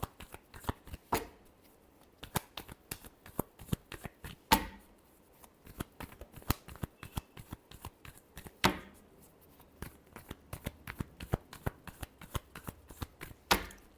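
Tarot cards are shuffled close by in a quiet room, a run of sharp riffling flutters and soft slaps arriving in uneven bursts with short pauses between them.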